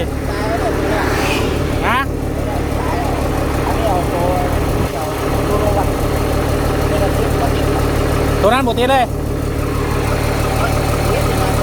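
A ten-wheel truck that has broken down mid-journey idles with a low, rough, throbbing engine note, loud and close, while several people talk over it.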